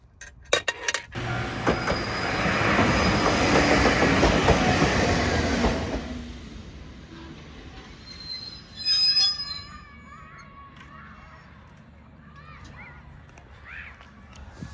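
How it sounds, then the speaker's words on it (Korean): A strawberry-themed local train in Japan passes on the railway near a level crossing, its wheels squealing loudly and rails clattering, then the noise fades away as quieter surrounding sounds remain. "딸기 열차가 또 왔군요."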